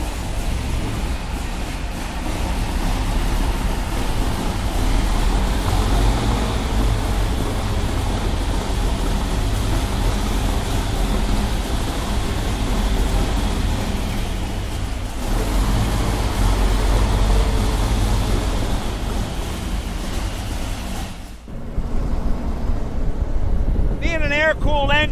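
A tank engine powering a car roars loudly and continuously during a ride, with wind and road rumble over a steady low drone that briefly dips near the end.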